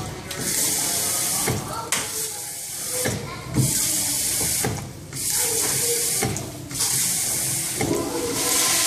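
A bathroom sink tap runs with loud, hissing water that surges and drops in uneven pulses, close up, while a person talks over it.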